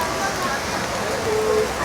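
Steady rain hisses over a crowded market street in Seoul, a dense, even patter mixed with a murmur of people nearby.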